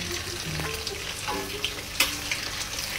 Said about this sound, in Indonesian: Kalau goreng nasi goreng